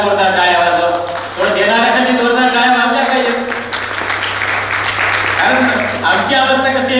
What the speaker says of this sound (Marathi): याबद्दल पुन्हा एकदा जोरदार टाळ्या वाजवा